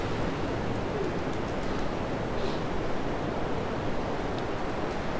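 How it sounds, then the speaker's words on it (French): Ocean waves washing steadily on a shore, a constant broad roar with no distinct breaks, moderately loud and close, filling the background with no voices. "désolé pour le bruit des vagues,"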